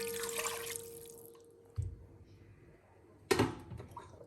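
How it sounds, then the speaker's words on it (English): Water poured into a cooking pot on medium heat, a soft splashing trickle under a low steady hum, followed by a couple of sharper clunks and splashes close by. "First, I'm going to put the water."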